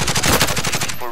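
Rapid automatic gunfire rattles in a fast, close, loud burst during a Call of Duty Warzone match, lasting about a second.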